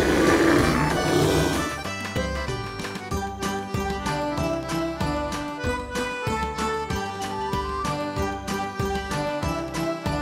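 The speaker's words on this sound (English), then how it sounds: "Bear." A bear's deep, rough roar bursts out at the start, then gives way to a busy rhythmic backdrop of thumps and jingling.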